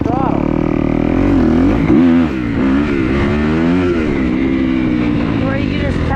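A motorcycle engine revs loudly and close up while the rider holds a wheelie, its pitch rising and falling in waves with each tap of the throttle.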